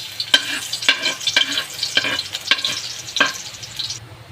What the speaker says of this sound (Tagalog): So guys, lagyan na natin yung bawang.